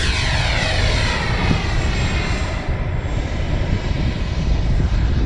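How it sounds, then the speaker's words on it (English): A Freewing F9F Cougar 80mm electric ducted-fan model jet roars continuously as it flies, a steady loud whine over broadband wind noise, with no talk. "I always, if I can, I try to do 3 takeoffs and 3 landings with a jet"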